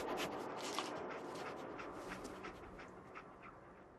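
Dogmeat, the dog companion in Fallout 4, pants steadily and close by in a continuous rhythmic breathy hiss, with faint shuffling movement and no talk.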